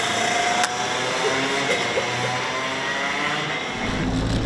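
A race car, driven by a performance coach, circles a track with a sustained engine drone at mid distance, steady in level with a slight shift near the end, no talk.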